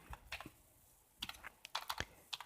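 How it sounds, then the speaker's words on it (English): Light clicks from someone typing a short entry on a computer keyboard, arriving in small irregular bursts with pauses between them, close and quiet with no one talking. "let's type that in"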